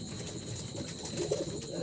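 Young homebred Jalali pigeons kept in baskets coo softly and close by, a low, murmuring call over faint background noise.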